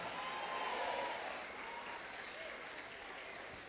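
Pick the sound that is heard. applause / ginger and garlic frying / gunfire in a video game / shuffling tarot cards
applause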